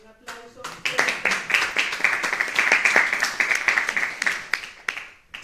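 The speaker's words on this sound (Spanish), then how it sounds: "aquí sí le vamos a dar un aplauso" Audience applause at a cultural identity and women's conference, a dense run of hand claps rising quickly and holding steady for several seconds before tapering off, with a voice faintly present beneath.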